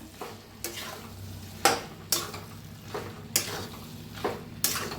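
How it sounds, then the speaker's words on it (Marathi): A spoon stirs a potato and cauliflower curry with coriander in a pan, knocking against it about seven times in an uneven rhythm over a soft background sizzle. "आता वर टाकायचे कोथिंबीर आणि मस्त असं मिक्स करून घेऊया एकदा"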